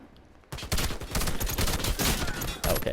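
Rapid bursts of semi-automatic gunfire in the game Warface start abruptly after a short quiet moment and continue as a dense, loud string of shots for a couple of seconds.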